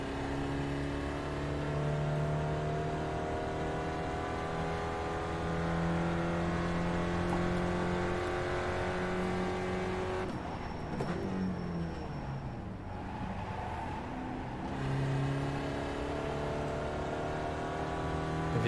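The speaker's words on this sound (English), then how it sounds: "If you see me blipping the throttle like that, it's because the gear hasn't caught." Race car engine in the iRacing sim, a Mazda on cold tyres, droning steadily with harmonic pitch sweeps, then a burst of sharp throttle blips during a missed downshift before the engine note settles again; no talking.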